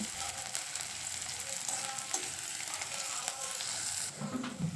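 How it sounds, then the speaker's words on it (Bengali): Two medium onions fry in hot mustard oil in a wok, a steady close crackling sizzle with occasional stirring clicks and no talking. "দুটো মিডিয়াম সাইজের পেঁয়াজ হালকা লাল করে ভেজে নেব"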